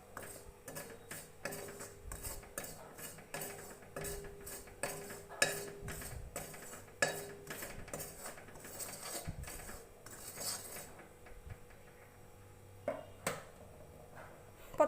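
Gram flour and semolina being stirred together in a pan, a steady run of close scraping and clinking strokes from a spoon against metal, rhythmic and fairly loud, with a brief lull near the end.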